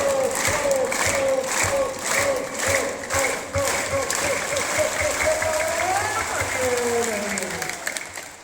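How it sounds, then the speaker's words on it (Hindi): Students at an intercollege school clap together in steady, rhythmic unison over a sustained chanted Om, the claps loud and evenly spaced while the drawn-out vocal tone runs beneath them. "ओम की ध्वनि के ऊपर ताली वादन प्रक्रिया"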